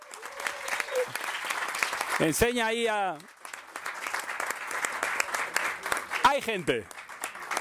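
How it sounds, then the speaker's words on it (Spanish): A crowd at a Campus Party presentation breaks into loud, sustained applause, with people shouting and calling out excitedly over the clapping throughout. "¡Un aplauso para Mónica!"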